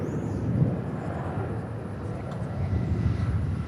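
A Delta Airlines plane at DFW Airport produces a moderate, steady low engine rumble from some distance, a continuous droning hum that rises and falls slightly in loudness.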